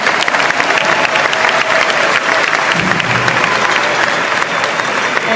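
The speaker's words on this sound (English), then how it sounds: "Let's give them a round of applause." Sustained audience applause at a graduation ceremony for the class of 2026, a dense steady clapping from a large crowd that fills the whole stretch without pause.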